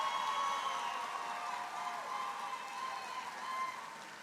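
Applause for scholarship earners at a high school graduation ceremony, a broad, steady wash of clapping from a large crowd that stays even, then swells slightly near the end.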